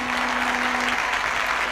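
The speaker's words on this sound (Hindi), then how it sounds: "जोर से ताली बजाएं" Applause from a church congregation during a Hindi morning prayer service, a steady dense wash of clapping filling the whole stretch at moderate loudness, with a faint sustained tone running beneath it.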